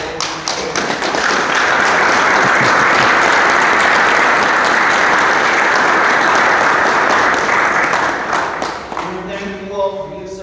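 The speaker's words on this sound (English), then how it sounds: "I think we all need to give a round of applause to all of these." Loud, steady applause from attendees at a township meeting, dense clapping that holds for several seconds before fading, with a voice starting to talk as it dies away.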